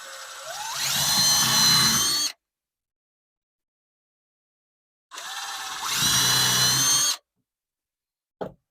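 Power drill boring a starter hole in cedar wood: two steady whirring bursts of about two seconds each separated by silence, close and loud, ending with a brief final blip.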